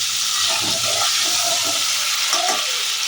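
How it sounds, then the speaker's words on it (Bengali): Eggplant and potato fry in hot oil alongside half a large tomato, giving a steady, close sizzle with soft stirring scrapes throughout and no talk. "বেগুন আর আলু একটু ভালো করে তেলে ভেজে নেবো"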